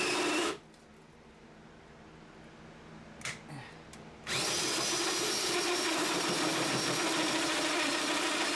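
A power drill bores a hole during a junkyard Bullnose Ford carb swap, a short whir and a few clicks before a loud, sustained high-speed drilling run close by.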